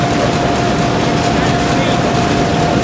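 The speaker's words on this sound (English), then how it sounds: "There's an ungodly amount of air coming out of here now." A combine harvester with its rotor sped up and concaves closed down blows a strong, steady rush of air through open screens, a loud continuous roar with a faint tonal hum and talk over it.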